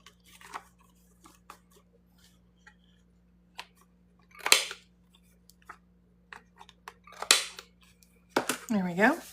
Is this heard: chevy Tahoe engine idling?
no